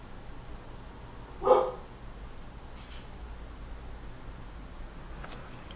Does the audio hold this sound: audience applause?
no